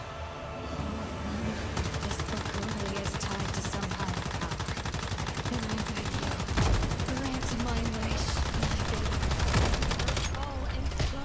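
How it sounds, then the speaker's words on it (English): A light machine gun fires in a video game, rapid sustained automatic bursts running almost continuously over a dense, loud game soundscape, with faint background voice. "the LMG doesn't do like a lot of power, but it does let me fire a lot in a short period of time"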